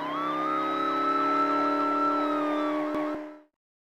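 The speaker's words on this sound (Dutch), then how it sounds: "politievrouw Nutsy past bij een politieauto." A police car siren from the 1999 PC game Blinky Bill plays as a loud, steady, wailing electronic tone for about three and a half seconds, alone with no other sounds, then cuts off abruptly.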